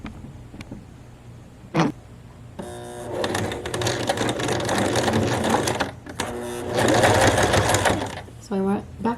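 A sewing machine backstitches and then runs forward along a shirt seam, its needle chattering in rapid bursts of a few seconds each, close and clear, with a person talking between and over the stitching.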